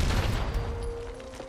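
Gunfire and explosions in the video game Fallout 76 come as a dense, rumbling burst of rapid shots, loud and close, with no talking.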